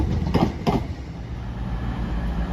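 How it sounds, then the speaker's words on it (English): An Avanti West Coast train to Holyhead passes through Crewe station with a steady rolling rumble, and two short clattering bursts of wheels over rail joints come early on. "there goes the 1054 Avanti West Coast service to Holyhead"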